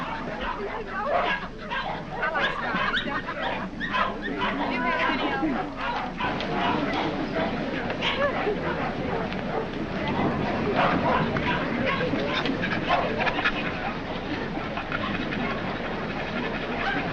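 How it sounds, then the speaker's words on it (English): Many dogs bark and yip together at a dog show in an old 1933 mystery drama soundtrack, a dense continuous chorus of barking with voices talking over it. "I can stand one dog, but this bedlam is getting on my nerves."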